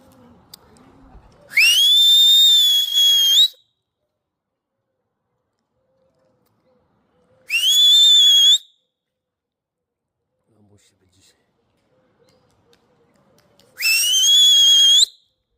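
Three long, loud whistle blasts spaced several seconds apart, called out to bring in white racing pigeons during a training flight, with quiet between the blasts and no talking.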